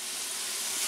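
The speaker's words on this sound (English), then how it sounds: "See how it's sizzling down a little bit?" Tilapia cooks in vodka sauce in a pan, giving a soft, steady hiss of sizzling that stays even and close throughout, with no talking.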